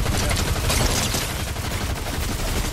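Dense video game gunfire from a trio battle with sniping from a hillside, rapid overlapping shots and bursts forming a loud continuous barrage throughout.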